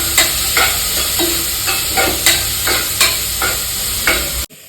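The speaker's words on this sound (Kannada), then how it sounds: "ಈರುಳ್ಳಿ ಹಾಕಿ ಫ್ರೈ ಮಾಡೋಣ." Onions fry in a hot pan with a loud, steady sizzle, broken by regular scraping strokes of a spoon stirring them about every half second, ending abruptly. No one speaks.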